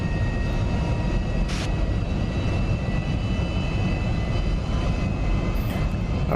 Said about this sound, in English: I'm going to cut our throttles back out of afterburn in a second